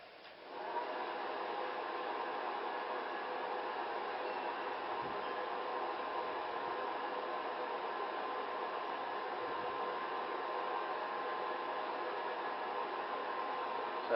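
Air is pumped steadily into a forge fire, making a continuous, even, breathy rush of airflow at moderate loudness for the whole stretch, with no speech.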